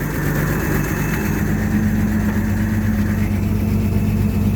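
An old Clark forklift engine idles cold on choke, a close, steady low rumble with slight unevenness and no talking.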